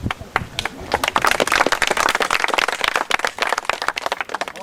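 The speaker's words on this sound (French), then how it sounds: "On peut les applaudir les jeunes" Dense clapping and applause from an outdoor street-parade crowd cheering young performers, sustained and fairly loud with overlapping claps and some voices mixed in.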